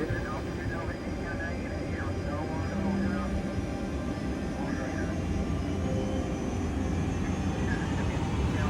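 Jumbo jet airliner engines roar during takeoff in the cockpit of a big jet, a loud, steady broadband rumble filling the whole stretch without a break.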